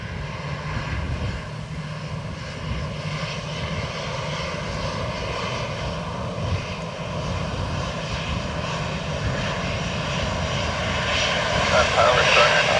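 Ryanair airliner landing at Dublin Airport, a steady loud engine roar that swells slightly toward the end, with radio talk from air traffic control heard underneath.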